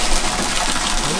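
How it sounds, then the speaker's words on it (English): Waterfall in a Japanese garden, a loud continuous rush of falling water with no breaks. "The waterfall."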